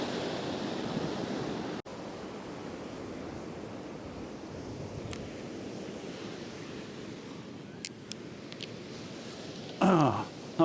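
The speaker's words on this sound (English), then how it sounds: "Let's give the old telephoto a go with some of these breaking waves out here" Ocean waves break and wash onto a beach in a steady, rolling surf roar, with wind buffeting the microphone and a brief rustle of handling near the end.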